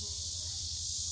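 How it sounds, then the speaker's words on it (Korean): Cicadas sing at Cheonghae port in Wando, Korea, in a constant, high, shrill drone held evenly throughout. "매미 소리도 들리고"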